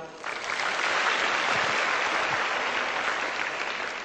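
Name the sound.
audience applause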